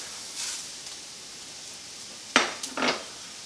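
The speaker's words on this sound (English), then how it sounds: "it is now time to add the rice." Uncooked rice tipped into a pan of softened garlic and onions seasoned with salt and black pepper: a quiet, brief rattling pour in a couple of short bursts after near silence.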